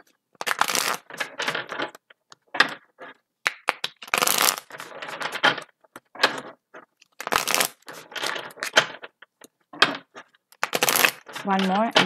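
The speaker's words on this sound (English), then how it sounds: "Sorry that I'm shuffling so much." Tarot cards being shuffled by hand, bursts of crisp riffling and slapping in irregular clusters separated by short quiet gaps, close and moderately loud.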